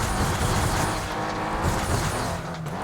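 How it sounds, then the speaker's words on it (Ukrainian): Race car engine in the Flatout 2 racing game during a Desert Cup event, droning loud and steady with rough tire and skid noise, no voices. "Так, трохи прискорюю, щоб стабілізувати автомобіль."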